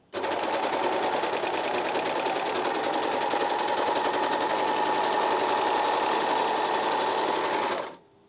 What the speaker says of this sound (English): There's a nice piece of overlocking.